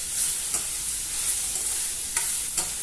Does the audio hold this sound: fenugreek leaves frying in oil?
yes